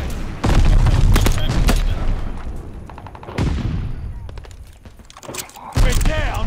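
Gunfire in the video game Call of Duty: Vanguard, loud and close, with bursts of rapid shots and heavy booming impacts in a dense battle mix, broken up by brief game voice callouts.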